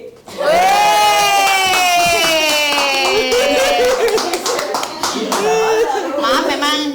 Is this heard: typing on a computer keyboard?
no